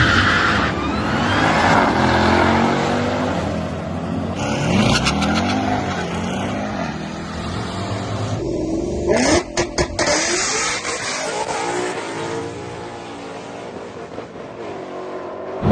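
A 1000-horsepower Dodge Durango Hellcat drag races, engine revving hard through repeated loud accelerations and gear changes, with passes on street and track.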